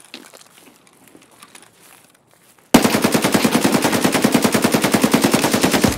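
Rapid automatic gunfire in the Escape from Tarkov shooter game erupts suddenly after a quiet stretch, a loud, close, evenly spaced burst of shots that runs without pause to the end.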